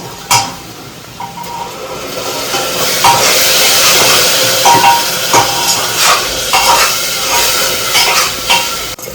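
Masala and ginger garlic paste frying in a pan for chicken biryani: a loud, close sizzling hiss with scraping stirs and occasional clanks of a utensil against the pan, and no talking.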